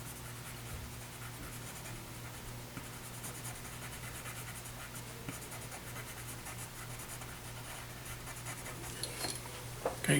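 A pencil scratches across paper while rough shading goes in for a body drawing, giving a soft, continuous scraping close up and faint, with small strokes repeating throughout.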